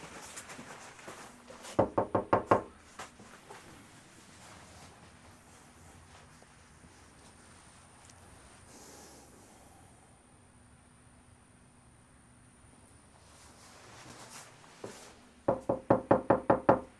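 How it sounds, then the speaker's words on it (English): Two bursts of knuckle knocks on a house door, each a quick run of about five or six raps, one near the start and another near the end, separated by a long quiet stretch of faint background hum. "So we knocked a couple of times, but he didn't answer."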